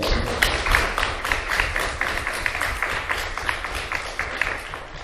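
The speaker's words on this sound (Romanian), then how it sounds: "haideți să o aplaudăm" An audience at a Romanian national education project launch breaks into steady applause for a woman being welcomed, dense overlapping claps sustained throughout at moderate loudness.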